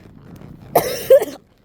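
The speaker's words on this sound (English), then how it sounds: "I had this cough about since December" A single person gives a short, close, rough cough in two bursts, from a lingering cough, in an otherwise quiet setting.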